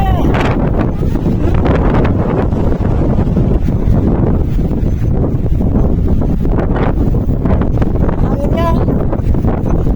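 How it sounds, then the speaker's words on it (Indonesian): Strong, fresh wind blowing outdoors during a stormy trek along a steep trail, a loud, constant roar of gusts buffeting the microphone, with people talking faintly underneath. "Anginnya mantap, segar."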